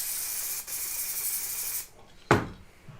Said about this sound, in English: Layering spray.